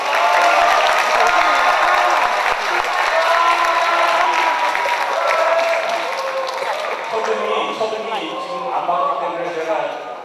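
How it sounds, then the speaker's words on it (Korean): A crowd gathered on a church tour applauds loudly and continuously, mixed with voices and cheering that taper slightly toward the end. "박수!"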